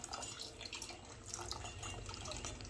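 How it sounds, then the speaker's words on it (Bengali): Water is poured into a pot of burnt, reduced milk, a quiet, continuous trickling and gurgling that runs alone for a few seconds. "তার জন্য আমি না একটু জল ঢেলে দিচ্ছি যাতে মা বুঝতে না পারে"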